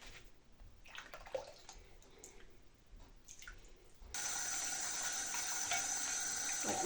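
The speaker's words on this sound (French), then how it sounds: "je vais rincer aussi la petite éponge" A small sponge is rinsed under running tap water: soft splashing and trickling at first, then a steady, louder rush of water that runs alone for several seconds.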